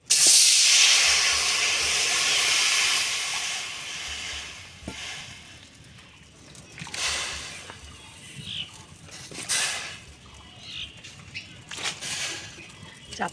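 Water in a village kitchen wok for boiling raw mango gives a loud, close burst of hissing steam that fades after several seconds, followed by quieter clatter and scattered sounds.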